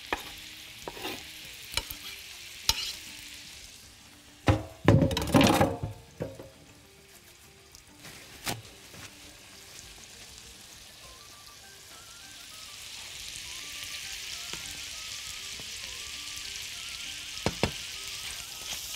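Cauliflower pieces sizzle and fry in a pan with a steady hiss, broken early by sharp clatters and a burst of stirring, then settling into a brighter, even crackle toward the end.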